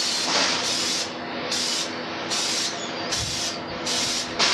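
Short bursts of an aerosol spray can hiss close by as plastic coat paint goes onto Honda Transalp motorcycle fairings, five or six pulses in an uneven rhythm over a low background hum.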